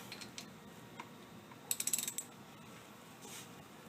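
Socket ratchet tightening a front brake bolt on a 2004 Toyota Camry, a quick run of faint clicks close by in a quiet garage.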